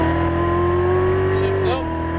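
Chevrolet Corvette C7 Z06 on a race track, a steady droning engine note held as the throttle rolls out, then dipping and shifting pitch briefly near the end, loud and close throughout.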